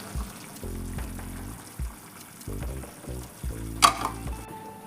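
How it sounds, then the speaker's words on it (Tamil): Okra curry simmering in a pot, with a soft bubbling and sizzling bed broken by several low clattering knocks and one sharp clink near the end. "குழம்பு நல்லா கொதி வந்துருச்சு."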